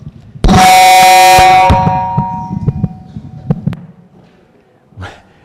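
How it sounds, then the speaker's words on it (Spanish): Loud electronic beeping from audio equipment at the start of a talk at a building energy-retrofit conference, a dense harmonic tone lasting about a second, then fading with scattered clicks and thumps. "Disculpad los pitidos."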